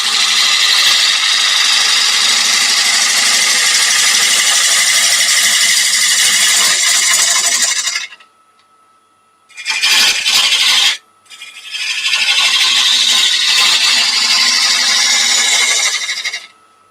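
Wood lathe turning a chainsaw-cut blank, with loud continuous scraping and hissing as the tool cuts, broken by two short pauses and a brief burst before the cutting resumes.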